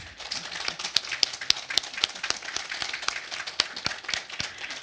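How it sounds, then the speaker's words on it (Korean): An audience at the opening worship service of a church officers' retreat gives a round of thanks applause, with many sharp individual claps forming a quick, crackling patter that holds steady for several seconds. "손다릭 증경 총회장님께 큰 감사의 박수를 드리겠습니다"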